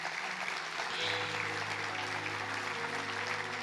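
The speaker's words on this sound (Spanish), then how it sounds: "Dale un aplauso a Jesús." Church congregation applauding during a sermon, a steady wash of clapping with sustained low organ or keyboard tones running beneath it throughout.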